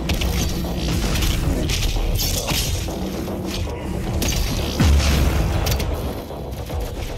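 A full-auto shotgun in Doom Eternal pounds out heavy, booming blasts in a near-continuous, loud stream, with deep low-end thumps layered over a dense game soundscape.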